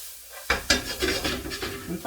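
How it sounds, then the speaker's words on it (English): Spring onion and green beans stirred in a pan, with close scrapes and clatters of a utensil against the pan in a steady run of strokes over a faint sizzle. "bit of a stir"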